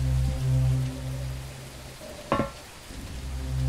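Steady rain falls in a video game, a soft continuous hiss over a low droning hum, broken by one brief thud.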